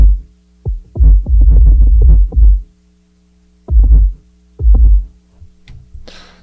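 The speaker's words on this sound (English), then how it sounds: "bit of distortion in this kick sample that they've given me" Heavy, distorted kick drum sample hits boom alone in an R&B mix, some in quick clusters and others spaced apart, with a fuzzy, overdriven low end.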